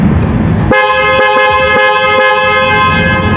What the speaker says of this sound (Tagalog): So loud horn.